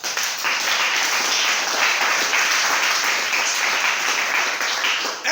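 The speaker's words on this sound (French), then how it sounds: "on acclame le Seigneur" A church congregation bursts into sustained applause and cheering to acclaim the Lord, a dense, steady wall of clapping that fills the room for several seconds before easing off.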